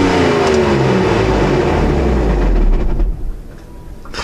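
A Mazda RX8 rotary engine with a clutch problem revs hard and loud and steady, then is switched off, its roar collapsing into quiet with faint rattles fading out.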